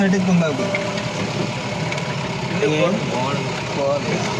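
A safari jeep's engine idles steadily nearby at night while several people talk over it.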